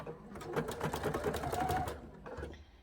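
A sewing machine stitches a seam on a cathedral window quilt panel, running steadily for about two seconds with a fast, even rattle, then pausing briefly before a short final burst.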